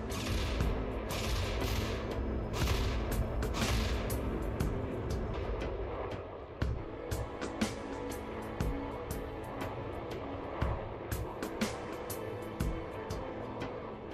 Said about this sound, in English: Their defensive turrets would shoot your mines out of the sky, and if you're not careful, the exploding mines could destroy your ship